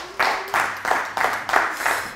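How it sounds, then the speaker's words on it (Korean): Audience applause at a Korean lecture, short bursts of clapping rising and falling in several waves over about two seconds, fairly close and fairly full. "박수 한번 주세요."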